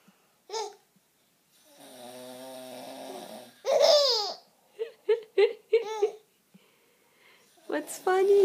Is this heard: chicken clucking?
no